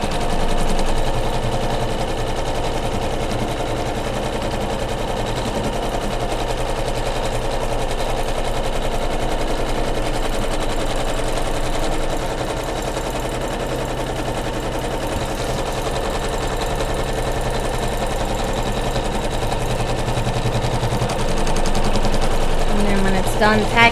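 An embroidery machine tacking down a quilted pillow flange held taut in a hoop, running a fast, continuous mechanical stitching rattle throughout at close range.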